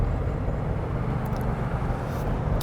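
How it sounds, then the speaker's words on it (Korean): A 2021 Ford Expedition SUV pulls away with a steady, heavy low engine and road rumble that stays even and close throughout, with no voices. "자, 그러면 익스페디션과 함께 가볍게 달려보죠"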